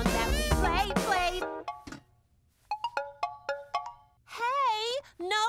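A phone's melodic ringtone chimes in short bursts during a band practice in an animated children's show, sitting between stretches of sung and spoken voices.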